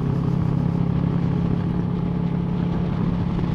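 A jeep is driven around, its engine a steady, loud rumble that holds without break, close by, with no voices over it.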